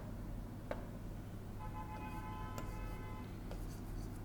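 Scratchy strokes of a math formula being written on a board, with a few sharp taps and a short squeaky stretch over a steady low hum, faint and with no talking.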